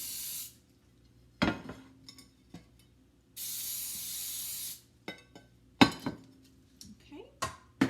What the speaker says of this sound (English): And I'm going to spray them with this lovely blue can of cooking spray.